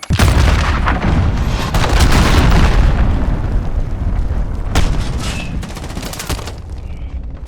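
A cruise missile strike in Call of Duty Modern Warfare multiplayer, a loud, rumbling blast and heavy roar with crackling gunfire around it that slowly tapers off.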